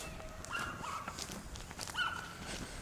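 A neighbor's dog barks and yips in a back yard, several sharp calls at moderate distance, with footsteps moving nearby.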